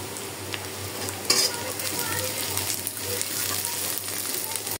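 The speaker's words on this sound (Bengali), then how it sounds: "পেঁয়াজ রসুনটা মোটামুটি ভাজা হয়ে গেছে" Onion and garlic fry in a pan, a continuous close sizzle with stirring scrapes and a brief metallic clink early on.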